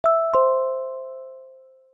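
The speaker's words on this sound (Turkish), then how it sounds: "ben doorbell sesinin çalmasını istiyorum" A doorbell chime plays as a phone notification triggered through Home Assistant: two bright ding tones in quick succession, the second ringing on and fading slowly, alone and clean.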